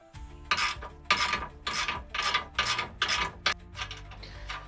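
A hand ratchet loosens a sway bar end link bolt on a 2005-2014 Ford Mustang, giving a series of close, rhythmic clicking strokes, about eight pulls in quick succession, with no voices.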